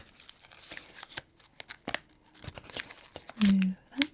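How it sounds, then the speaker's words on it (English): Scissors snip and tear at a cheese snack package in a series of sharp, close cuts and crinkles, ending with a louder burst of plastic rustling while someone talks softly in between. "I'm going to use the scissors to open this one."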